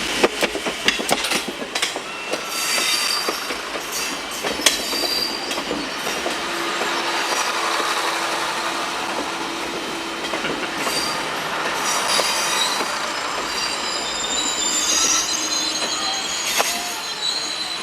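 A Garratt steam locomotive runs on a Spanish RENFE branch line between Pobla and Lleida, its wheels and cars rattling and squealing steadily and fairly loud throughout, with no talk.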